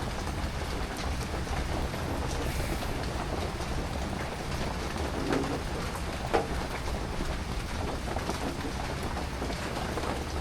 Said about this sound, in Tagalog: Tulad ngayon, maabutan ako ng ulan.